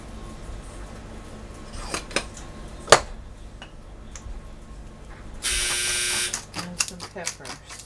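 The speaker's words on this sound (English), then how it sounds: "Sorry if you heard the dryer go off." A clothes dryer's electronic buzzer goes off for about a second midway, loud and steady, amid faint clatter and background kitchen sounds.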